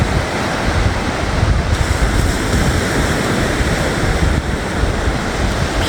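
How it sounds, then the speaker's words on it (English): Surf breaking steadily on a UK beach during an evening walk, a loud continuous wash of waves mixed with wind buffeting the microphone, with no one speaking. "Hope you're enjoying this little scenic route of the beach."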